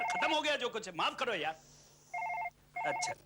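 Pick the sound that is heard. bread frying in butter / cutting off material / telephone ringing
telephone ringing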